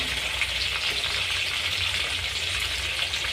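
Chicken pieces and potatoes fry in hot oil for an evening snack, giving a steady, close, bubbling sizzle that continues unbroken without any talk.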